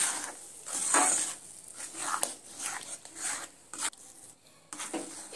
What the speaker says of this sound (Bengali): এইভাবে নাড়তে নাড়তে দুধ আর সুজিটা অনেকটা শুকিয়ে আসবে।